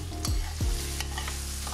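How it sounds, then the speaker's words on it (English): Pressed garlic stirred in a hot pan, a short burst of spatula scrapes over a steady close sizzle. "Give that a mix, because we definitely don't want to burn that garlic."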